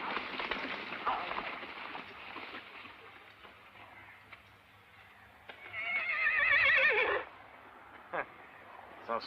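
A horse whinnies loudly for a couple of seconds midway through a Western film scene, with rain-like patter, hoofbeats and voices around it.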